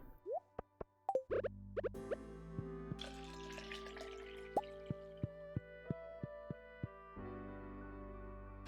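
Milking a goat in the video game Stardew Valley, heard as a string of bright, watery plops and drips with tonal game chimes, spaced beats repeating over a soft musical background, close and clean with no talk.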